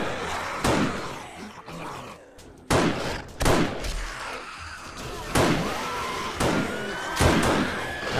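Loud single gunshots in 7 Days to Die ring out irregularly, about eight sharp cracks with short decaying tails spaced a second or so apart, fired at zombies over a low game background.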